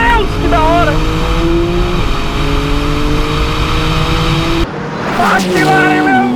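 A Porsche 911 GT2 RS and a McLaren 720S drag race from a rolling start at 50 km/h in second gear, engines roaring loud and steady with rising tones, then a sudden shift and renewed acceleration.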